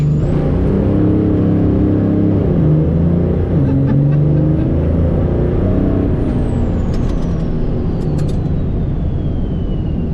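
A compound-turbo Cummins diesel truck built for high boost launches and accelerates, its engine a loud, continuous low roar with rising harmonic tones and a whistling whine that climbs and then falls away.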